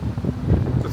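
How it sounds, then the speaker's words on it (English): Gusty wind buffets the microphone on a cool day near Camden Street by Baltimore's Inner Harbor, a steady low rumble with rising and falling swells throughout, no talking. "So it's awfully windy and cool."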